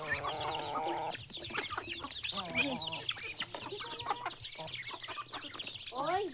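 Chickens clucking and squawking close up, a busy overlapping chorus of hens with sharp calls, some faint talk mixed in.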